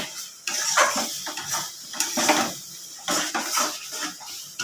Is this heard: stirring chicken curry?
yes